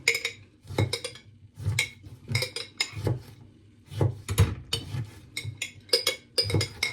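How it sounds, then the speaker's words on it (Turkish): A knife chops lemons rapidly against a cutting board into small pieces, producing steady, close knocking taps with a slight clink. "Ondan sonra böyle ufak ufak doğranıyor limonlar."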